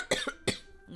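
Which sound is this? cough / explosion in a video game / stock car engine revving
cough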